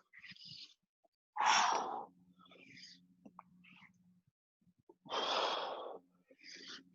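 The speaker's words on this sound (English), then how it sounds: "Breathe in, out, breathe in." Loud, close breaths in and out during yoga push-ups in a livestreamed strength and cardio workout, two strong exhales separated by quieter breathing and soft sounds.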